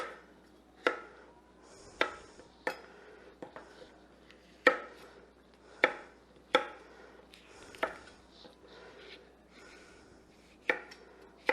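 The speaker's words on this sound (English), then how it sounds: "Then we're just going to slice them up like the others." A knife slices through washed food on a cutting board in a kitchen, about a dozen crisp, separate knocks spaced irregularly, close and fairly quiet, with soft scraping between the cuts.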